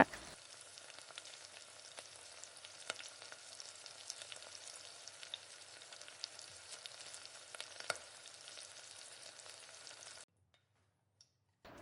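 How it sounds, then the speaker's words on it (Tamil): Chicken pieces for chilli chicken fry in oil with a steady, close sizzle that crackles continuously for about ten seconds, with occasional sharper pops, before stopping abruptly. "2 பக்கமும் நல்லா திருப்பி திருப்பி விட்டு நல்லா வேக வச்சு ஸ்டவ்வை கூட்டி குறைச்சி வச்சு நல்லா வேக விடுங்க"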